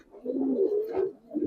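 A senior male pigeon gives a close, continuous warbling coo, swelling, briefly dipping, then starting again, with no talking.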